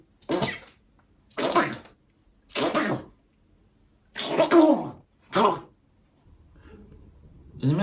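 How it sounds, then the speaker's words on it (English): A person sneezes from dust while going through old art portfolios, with five or six sharp sneezes in a row spaced about a second apart and quiet pauses between them. "I'm going to sneeze because of the dust."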